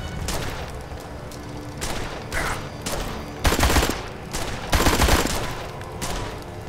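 Gunfire crackles in the video game Blues and Bullets as enemies are shot from cover. Several bursts of shots land over a steady game soundtrack, with the loudest volleys coming near the middle and later in the stretch.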